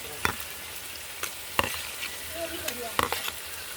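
Tomatoes, onions, ginger and garlic sauté in a pan for a Kerala-style chicken dish, a soft continuous sizzle broken by a few sharp spoon scrapes at irregular intervals.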